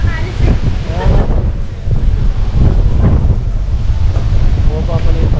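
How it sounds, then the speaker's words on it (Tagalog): Heavy rain and strong gusting wind battering the microphone in a loud, continuous roar, with low thumps and a few voices speaking underneath. "Ayun, lakas ang ulan."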